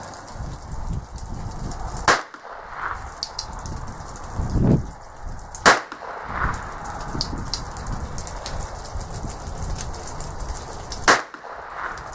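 Three sharp, loud gunshot cracks from a North American Arms Mini Mag revolver fired outdoors, spaced several seconds apart over a steady rain-like hiss of background noise.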